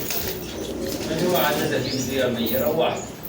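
Pigeons at a bird market coo and flap their wings amid busy crowd noise, with people talking nearby throughout.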